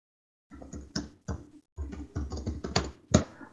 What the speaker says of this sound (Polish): tutaj w otwartym formularzu wpisujemy nazwę tego szablonu.